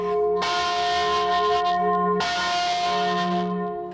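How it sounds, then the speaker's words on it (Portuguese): Large bronze church bells in the historic town of Ouro Preto, Minas Gerais, strike twice, loud and near, each stroke ringing out with a rich, sustained hum that slowly decays. "O soar dos sinos, ele até arrepia, né?"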